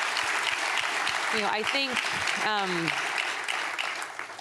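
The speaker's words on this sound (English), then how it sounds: "Please give Dr. Mahmood a round of applause" Audience applause honoring Dr. Mahmood at a CGI 2024 meeting, steady broadband clapping throughout, tapering toward the end, with a speaker's voice briefly talking over it midway.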